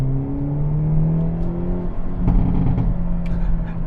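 Engine of a 2024 Hyundai Elantra N facelift on a road drive, a steady low drone that builds with rising harmonics, then crackling pops near the end, continuous and fairly loud.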